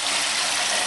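Continuous close rush of water splashing in a puppy's bathtub, steady and dense, with no voices.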